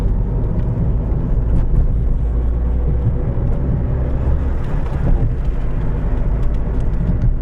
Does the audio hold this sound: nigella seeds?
no